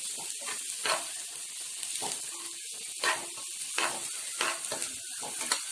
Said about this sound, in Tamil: தேங்காய் துருவல் லைட்டாக வதங்கினாலே போதும்.